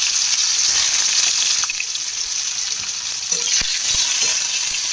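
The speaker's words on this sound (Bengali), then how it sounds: "দিয়েছি আর দিচ্ছি হচ্ছে শুকনো লঙ্কা আর কালো জিরে ফোড়ন, সঙ্গে একটা টমেটো" Dried red chillies and black cumin seeds tempering in hot oil in a pan, a loud, close, continuous sizzle with a few sharp pops and a light scrape near the end.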